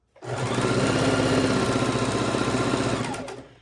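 A sewing machine runs steadily, stitching a quarter-inch binding seam around a king-size Christmas quilt, with a close, continuous mechanical whir that starts abruptly and stops after about three seconds.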